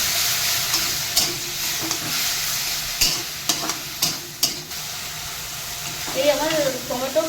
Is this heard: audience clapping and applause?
no